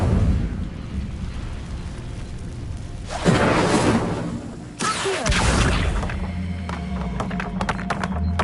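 In Hogwarts Legacy, the Incendio fire spell goes off as two loud whooshing, roaring bursts of flame a second or so apart, each flaring suddenly and trailing off, over a steady game background.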